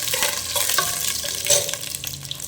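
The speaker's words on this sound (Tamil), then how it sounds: "ஸோ வரமிளகா போட்டுக்கிறேன், போட்டுக்கிறேன்." Dried red chillies frying in oil for a village-style fish curry, a close, bright crackling sizzle that holds steady with a brief louder burst partway through.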